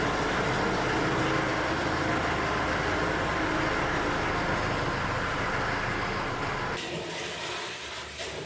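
A farm tractor engine running in a dairy shop, a continuous loud broadband rumble that drops off near the end.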